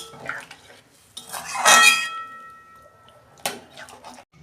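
A metal lid clatters onto a cooking pot of soybean and kohlrabi curry, a sharp ringing clang with smaller clinks before and after, close and alone.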